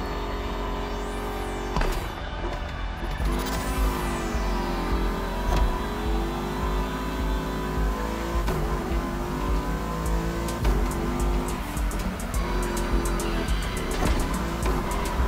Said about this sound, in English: let's do a bit of drifting